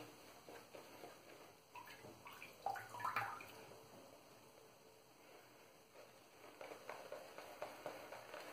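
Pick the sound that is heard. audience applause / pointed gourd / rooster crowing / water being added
water being added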